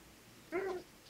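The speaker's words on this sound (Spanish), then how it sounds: "Este gato es terrible." A house cat gives one short, clear meow indoors, fairly close and alone against quiet background hiss.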